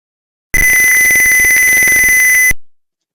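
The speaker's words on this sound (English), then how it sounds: "it will also turn on the buzzer" A loud, steady electronic overheat buzzer on a vertical farm sounds continuously for about two seconds, a piercing high tone that cuts off abruptly.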